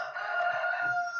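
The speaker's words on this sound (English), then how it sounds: "So we're going to start off with our hen." A hen calls once in a short, sustained, tonal squawk heard alone at moderate distance.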